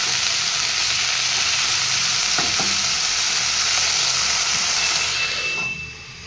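Saag greens sizzle and fry steadily in a pan with salt, a loud continuous crackling hiss with a couple of brief stirring clicks, tapering off near the end for an Odia no-onion, no-garlic lunch thali.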